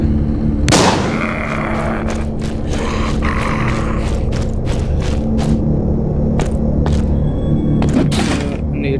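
Shotgun fire in the video game The Walking Zombie 2, a heavy boom followed by a series of sharp repeated shots at uneven intervals over a constant low game rumble.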